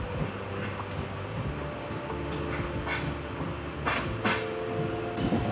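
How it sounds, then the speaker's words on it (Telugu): Repalle to Secunderabad passenger train running, heard from inside with a continuous low rumble and rhythmic wheel clatter, joined by occasional brief squeals and knocks. "ట్రైన్ అయితే కనుక కరెక్ట్గా నిమిషం తర్వాత అయితే స్టార్ట్ అయిపోయింది"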